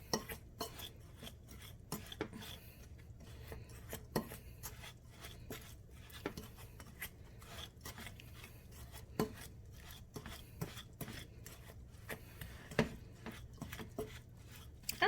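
A big salad fork working through crumble topping for a cast iron caramel apple crumble, giving soft, repeated scraping and tapping strokes in an irregular rhythm, quiet and close with no talking.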